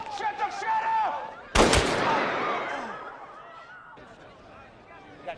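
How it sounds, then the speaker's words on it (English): A single sharp, loud gunshot rings out inside a bank during a robbery scene from the 2001 film Bandits, with a reverberant tail, and tense voices speak before and after the blast. "Got shots fired inside."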